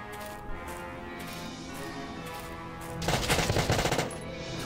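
Gunfire in the video game Valkyria Chronicles, a rapid burst of shots that flares up over a steady game soundscape for about a second and a half, with no talk.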